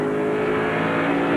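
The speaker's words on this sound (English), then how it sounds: "And Mark gets on the gas, pulls away by a couple of car lengths as they come off the corner" A NASCAR stock car accelerates hard off a corner during a 1996 Pontiac Excitement 400 race broadcast, its engine a loud steady roar throughout.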